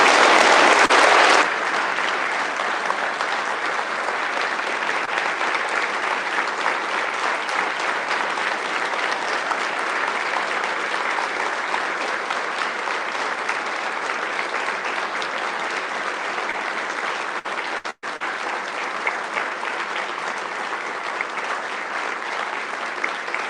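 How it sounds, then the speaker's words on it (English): Sustained applause from an audience at a Hall of Fame and Quilts of Valor presentation, steady and even throughout with a momentary break near the end. "how about one more round of applause?"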